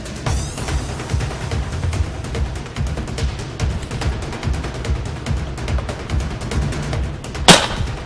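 A single sharp crack of a tranquilizer dart gun fired from the shoulder at a nyala bull in thick African bush, arriving near the end over a constant rough rumbling background.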